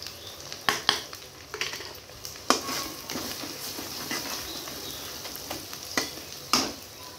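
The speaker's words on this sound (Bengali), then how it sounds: "পেঁয়াজটাকে ভেজে নিব।" Chopped onion fries in a pan with ginger-garlic paste, salt and turmeric, giving a steady close sizzle broken by several sharp scraping stirs of a spatula against the pan, with no talking.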